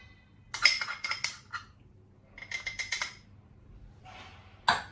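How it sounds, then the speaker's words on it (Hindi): Almond cake batter of flour, ground almonds and baking powder being mixed in a bowl, two short bursts of clinking and scraping from a utensil against the bowl, followed by a single sharp clank. "और इसको अच्छी तरह मिक्स कर लेंगे।"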